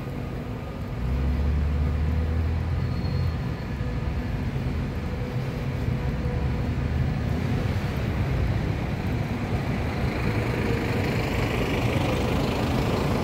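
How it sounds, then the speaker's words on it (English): A city bus engine rumbles steadily in the background of a local neighbourhood street, a loud, constant low drone with traffic-like noise running throughout, and no speech. "Sorry about the background noise with the bus."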